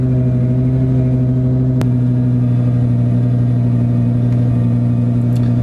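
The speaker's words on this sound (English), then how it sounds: "fire up your beautiful V10 engine." A Lamborghini Gallardo V10 idles after starting, a loud, steady, close engine drone with a constant tone, a brief click partway through and no clear revving.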